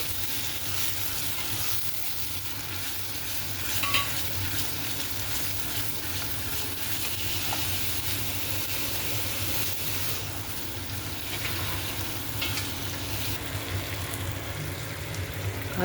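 Pav bhaji masala is stirred into sizzling gravy in a pan for dudhi bhurji, with steady, even frying crackle and a few faint stirring scrapes throughout, with no talk.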